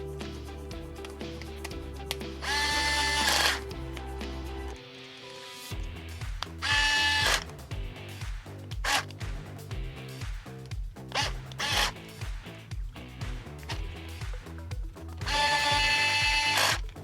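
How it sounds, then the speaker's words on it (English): Small power screwdriver tightening the screw that joins the lower suspension arm to the hub of an RC car, several short whirring bursts with pauses and clicks between them, close and fairly quiet. "tighten the screw that connects the lower arm to the hub"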